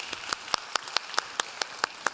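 A church congregation at a Sunday youth worship service claps in unison. The sharp, evenly spaced claps come about five per second, fairly soft, with no talking.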